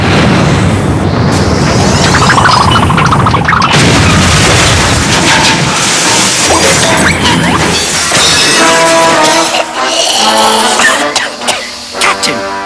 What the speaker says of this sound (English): A rather large explosion, Jones.